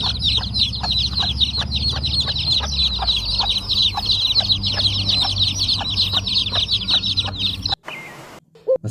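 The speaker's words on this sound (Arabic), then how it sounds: "الصوت ده كتاكيت مع الحاجة." Chicks peeping continuously and rapidly with a mother hen clucking low underneath, close and steady, ending with a brief rustle and knock.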